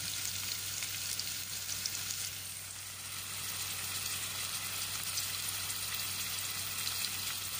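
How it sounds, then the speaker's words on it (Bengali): Chopped onions and green chillies lightly frying in oil in a cooking pot, the oil reused from frying pointed gourd: a steady, close, even sizzle that continues throughout with no talking. "আমি পাতিলার মধ্যে দিয়ে পেঁয়াজ কাঁচামরিচ কুচিগুলো দিয়ে হালকাভাবে ভেজে নিলাম"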